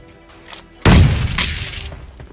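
In BGMI, a thrown bomb explodes with a single loud, sudden blast that rumbles away over the next second, following a few faint, sharp pops.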